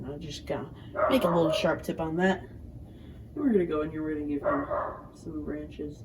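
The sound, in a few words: dog barking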